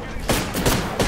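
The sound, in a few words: gunfire in the video game Apex Legends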